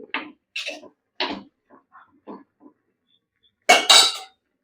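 A spoon scrapes and clinks against a pot while aviyal vegetables with turmeric powder are stirred, giving a few separate close metallic knocks with gaps of silence, then a louder final rattle.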